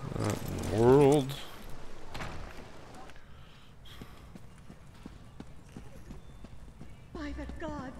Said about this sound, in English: We better hurry up and get there on our super slow horse.